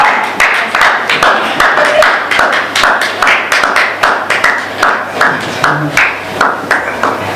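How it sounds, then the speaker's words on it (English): An audience breaks into enthusiastic applause, a dense run of sharp claps pulsing in waves for several seconds. "They just can't contain their applause for you, man"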